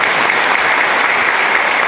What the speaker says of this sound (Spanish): Para ellos un fuerte aplauso.